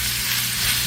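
Meat frying in a pan for a keto comfort-food dish, a loud, steady close sizzle with no talking, ending in a brief clink of a utensil.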